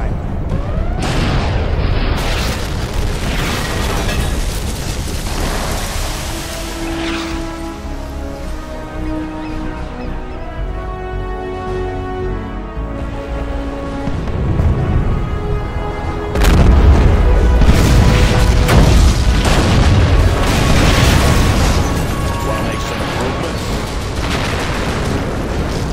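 Tomahawk missile launches and explosions from NATO forces fighting the GLA in C&C Generals Zero Hour with a realism mod, heard as heavy booms and rumbling blasts over a constant battle din, with a louder burst of strikes late on and no speech.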